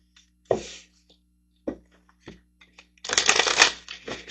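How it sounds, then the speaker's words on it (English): Manifestation cards shuffled by hand: a few scattered close card flicks and taps, then a denser burst of riffling, with quiet gaps between. "So let's get some manifestation cards over here."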